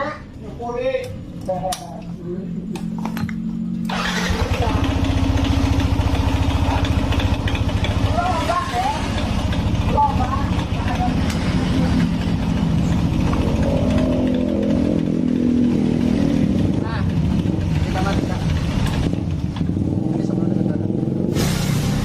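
A Yamaha Nmax scooter that keeps stalling runs noisily, its engine note a steady rough drone with rattling close by, lasting throughout while a person talks over it at times.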